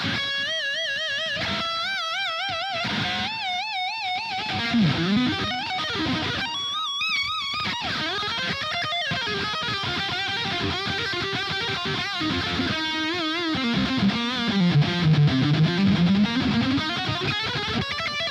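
Electric guitar lead played through a $39 budget distortion pedal with chorus, reverb and a little delay added, sustained bent and vibrato notes ringing continuously with smeared echoes and no talking.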